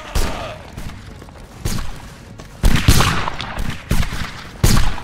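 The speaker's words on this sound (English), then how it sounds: "keep firing at will at the lines coming in" Rifle volleys crack in a video-game skirmish, loud bursts of musket-style gunfire arriving in uneven waves with short gaps between them, close and far shots overlapping.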